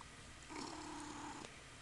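A Ragdoll kitten purrs softly and steadily with a low continuous rumble, close by and quiet, lasting about a second before fading.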